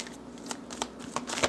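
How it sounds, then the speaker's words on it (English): A Lenormand deck is shuffled by hand in a quiet room, producing soft, quick papery riffles and flicks in irregular bursts, close and fairly faint. "And while I was shuffling,"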